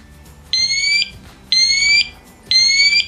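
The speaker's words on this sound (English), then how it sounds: "You will hear the smoke detector give the alarm." Three loud, shrill electronic alarm beeps from an ELRO smoke detector, each about half a second long, repeating at a steady one-second rhythm with quiet gaps between.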